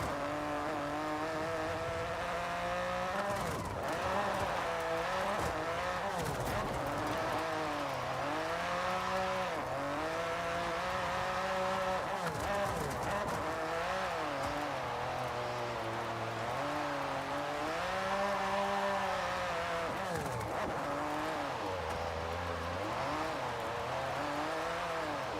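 Car drifting in the Forza racing game: a steady, loud engine drone with rising and falling pitch through revs and slides, carrying on without a break and with no talk.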